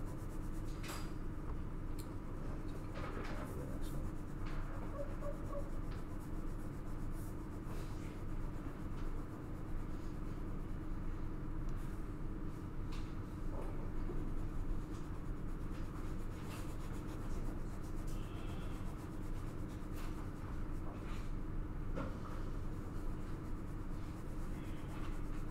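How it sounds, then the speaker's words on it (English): A pencil scratches and rubs continuously across paper in soft, steady shading strokes, close and quiet with a faint background hum. "I keep rotating my pencil too, because I can feel the graphite"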